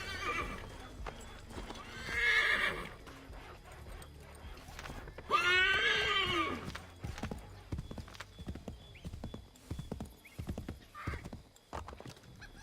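Horses in the Assassin's Creed 3 video game: steady clip-clop hooves with two loud whinnies and neighs, close, and no speech.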